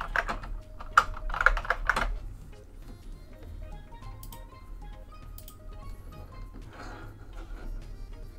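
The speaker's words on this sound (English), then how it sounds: "I'll just type it myself." Typing on a computer keyboard: a quick cluster of close, crisp keystrokes up front, then sparser light taps over a quiet room background.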